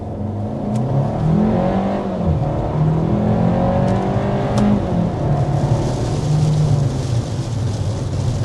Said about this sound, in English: there's our first acceleration with the Kona Limited